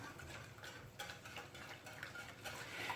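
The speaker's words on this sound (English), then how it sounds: "keep stirring until it gets to a kind of thickened custard consistency" Butter custard being stirred in a pan over lowered heat, a soft continuous scraping and swishing of the spoon, moderately close, with faint clinks against the pan and no talk.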